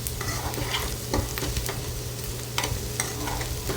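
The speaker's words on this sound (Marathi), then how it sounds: "तर अजून थोडासा भाजावा लागेल त्याचा कलर चेंज होईपर्यंत" Chopped onion frying in a pan for egg bhurji, with a steady sizzle and soft scraping stirs breaking through now and then, close and continuous with no talking.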